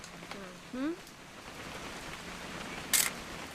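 Rain falls in the video game What Remains of Edith Finch, a steady soft hiss of drops throughout, with voices talking over it and a brief sharp click near the end.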